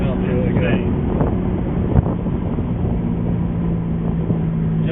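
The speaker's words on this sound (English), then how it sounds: "The exhaust sounds really good." Car exhaust droning steadily while the car is driven, a continuous low engine rumble with wind noise over the microphone, fairly loud throughout.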